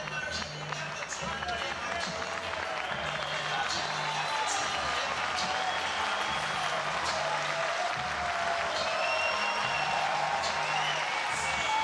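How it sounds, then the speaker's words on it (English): Oregon State Beavers fans applauding a pitcher at a college baseball game against Washington State, a sustained broad wash of crowd clapping with scattered cheers, heard under a commentator's voice. "Ethan Kleinschmidt getting a nice round of applause from the Beavers fans."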